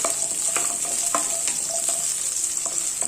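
About fifteen small shallots fry in hot oil for sambar rice, giving a steady bright sizzle with soft stirring taps over it and no voices.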